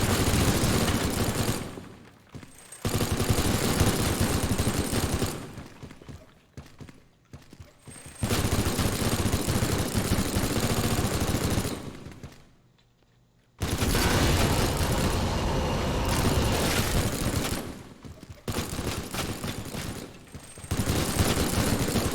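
Sustained bursts of gunfire from the video game Teardown, loud and dense in long stretches broken by brief quiet gaps, with no talk over it.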